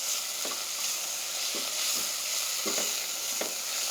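Salted onions fry in a pan under a steady, bright sizzle. A few soft scrapes of stirring recur about once a second, with no voices.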